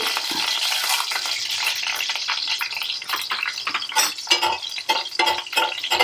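Mustard seeds fry and crackle in hot oil for a pepper rasam, giving a steady close sizzle with sharp pops that grow denser and louder toward the end. A few utensil clicks sound alongside.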